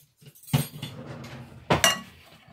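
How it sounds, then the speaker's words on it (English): A fork whisks rehydrated powdered eggs in a bowl, giving a few quiet clinks and scrapes against the bowl, including two sharper taps, with no one talking. "we're going to get a fork and whisk it up"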